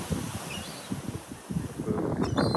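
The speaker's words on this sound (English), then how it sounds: "But basically, it's very windy." Steady outdoor wind buffets the microphone in low gusts, with faint rustling and a distant bird call now and then.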